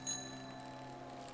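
A bicycle bell in a video game rings once, a short bright ding whose metallic tone lingers and fades quietly over a soft background.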